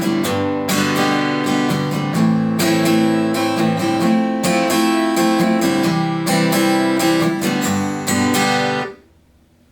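Steady acoustic guitar strumming runs through a chord progression in a regular down-up rhythm, played up close, then stops and rings out near the end.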